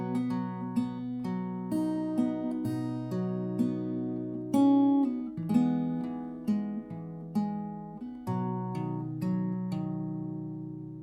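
Fingerstyle acoustic guitar with a capo picks the opening phrase of Amazing Grace, a steady run of plucked notes over a ringing bass, close and clear, with no voices.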